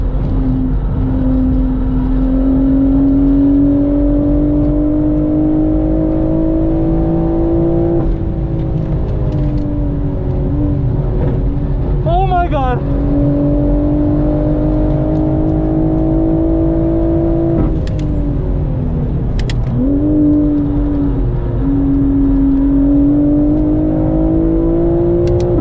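A BMW M4 on a racetrack accelerates hard, its engine note climbing in a smooth, loud drone, with brief dips as it shifts up through the gears.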